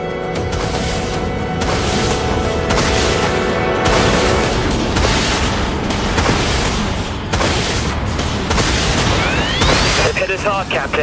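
Enemy missiles strike a ship in the space battle game Dreadnought, making a dense, continuous roar of booming impacts and blasts. Voices are heard over the loud barrage.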